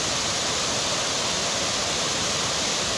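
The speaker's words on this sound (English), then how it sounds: "It rained last night, so probably this is like a really nice river." A river swollen after overnight rain rushes in a steady, loud, close roar of broadband water noise with no breaks.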